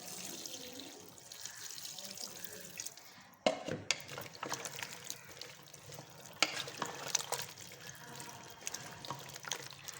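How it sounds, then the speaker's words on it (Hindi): Pumpkin, oil and water are stirred together in a pot, giving a faint wet sloshing with a few sharp clinks of utensil against the pot. "सारी चीज़ों को हम मिक्स करेंगे और साथ में पानी ऐड करेंगे।"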